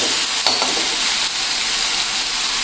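A salted mixture roasts in a hot pan and gets mashed with a spoon. A steady, dense sizzle runs throughout, broken by a few brief scrapes and taps from the spoon, with no talking.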